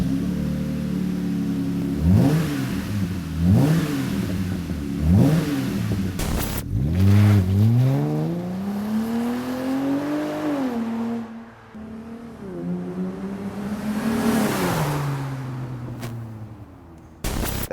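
A 2018 Jeep Wrangler JL four-door with an aFe Mach Force-Xp 2.5-inch stainless hi-tuck cat-back exhaust and black tip revs close by: three sharp blips, then longer climbing revs settling back to idle.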